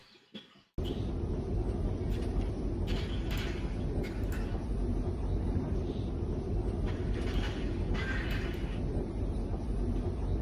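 Inside a Kyiv subway station sheltering people during an air raid, a steady low rumbling drone fills the space with occasional faint clanks and creaks, fairly quiet and continuous after a brief opening noise.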